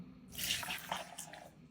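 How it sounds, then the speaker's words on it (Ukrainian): Hot water pours into a cup while preparing a low-calorie yogurt and jelly dessert, a close, steady splashing trickle lasting under two seconds and heard alone. "It's a cup of hot water."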